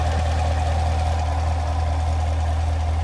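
A Corvette Z51 with a 6.2 liter V8 engine idles in a steady, continuous low rumble, close and even throughout with no speech.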